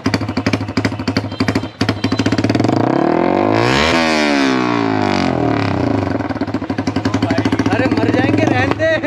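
A Yamaha R15 V4 motorcycle with a Toce exhaust blares close and very loud, its rapid staccato idle giving way to a long, rising rev that holds, then drops back to a fast, popping idle.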